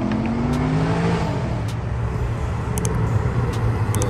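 Cars running at a street car meet in Colorado give a continuous loud engine roar and rumble, with rising revving tones layered over the steady drone, close by and without talk.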